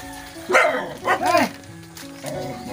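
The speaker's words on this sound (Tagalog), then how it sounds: "Uy, aso." A dog barks a few times up close, short sharp yelps spaced over a couple of seconds against quiet outdoor background noise.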